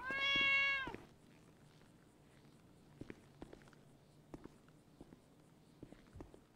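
A cat meows once in the GTA5 video game, a loud drawn-out cry at the start, followed by a series of light, scattered footstep taps in a quiet background.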